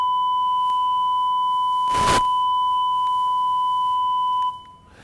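Steady sine test tone carrying added harmonic distortion at a fixed level, held continuously for several seconds, then cut off near the end, with a brief broadband burst partway through.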